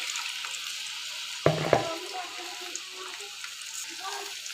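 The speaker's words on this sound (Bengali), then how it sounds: "এখন এই ফোড়নের সাথে এই কচুগুলো আমি হালকা হাতে একটু ভেজে নেব" Mukhi kochu taro pieces frying in hot oil with tempering spices for a koi fish curry, a steady close hiss with a brief louder clatter of stirring partway through.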